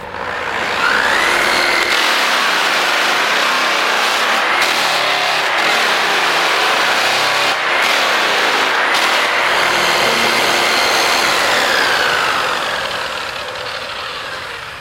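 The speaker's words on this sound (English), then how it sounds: "we're going to condition the wheel before we get started with a homemade rake" A new buffing wheel spinning on a polisher while a homemade rake conditions it, a loud steady motor drone with rising and falling whine and gritty scraping throughout, no voices.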